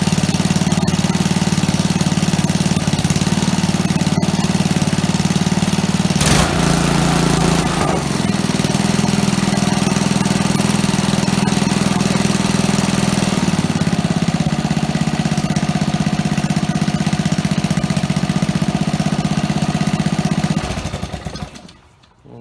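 A gasoline engine on an ExCell pressure washer runs loud and steady at close range without surging, holding an even throbbing drone before cutting off abruptly at the end.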